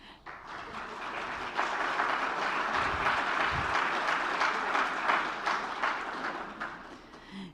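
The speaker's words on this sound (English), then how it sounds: "You got a big clap" A conference audience claps in sustained, even applause that holds for several seconds at moderate distance before easing off toward the end.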